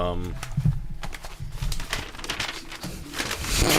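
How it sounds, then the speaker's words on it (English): A paper napkin crinkles and rustles in short, close bursts while a person talks over it the whole time. "Here's the shuffling of the napkin."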